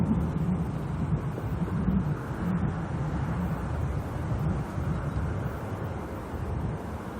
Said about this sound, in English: You can hear just how windy it is.